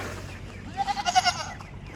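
Goats bleat at morning feeding time, a quick run of several nasal cries clustered near the middle, close and fairly loud over quiet farmyard background.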